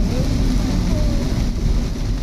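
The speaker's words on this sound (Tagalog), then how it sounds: "Lakas ng ulan dito." A loud, continuous wash of heavy rain pouring down, steady throughout with no breaks.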